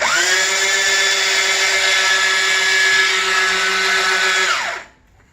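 A chain gun fires one sustained, loud, continuous mechanical burst for nearly five seconds, its buzzing whine steady in pitch before it winds down abruptly and stops, leaving silence.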